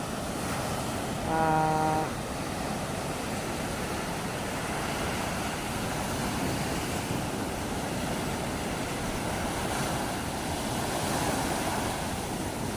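Ocean waves wash steadily onto the beach at Fortune Island, a continuous broad roar of surf with light wind noise, even and close throughout.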